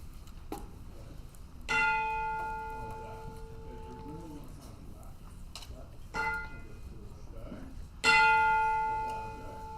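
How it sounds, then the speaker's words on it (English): Chimes played by an eighth-grade school band ring out in several loud struck strokes that sound like big church bells, each one decaying slowly, with softer clicks and taps between them. "this is kind of like this big church bells type of sound"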